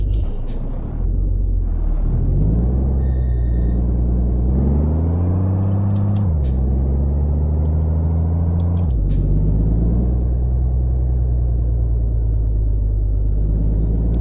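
Stock engine sound of a Peterbilt 379 truck in a driving video game, a deep steady diesel rumble rising and falling as it revs through gears, with short hissing air-brake bursts and a few clicks.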